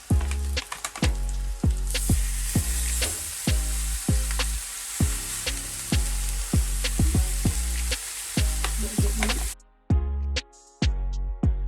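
Beef mince and onions with scotch bonnet frying in a pan for Jamaican beef patties: a steady close sizzle and hiss with repeated sharp clanks and scrapes of stirring, stopping abruptly near the end.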